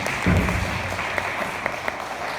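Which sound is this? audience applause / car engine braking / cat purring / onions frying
audience applause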